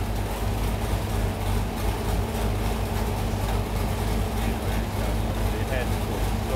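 An LS V8 engine in a 1968 Chevrolet C10 on a dyno holds a loud, steady, dense roar with a deep low rumble that never lets up.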